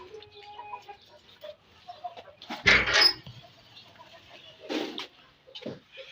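A Kandhari hen clucks in short scattered bursts indoors, fairly close, with a louder squawk partway through and quieter faint background sounds.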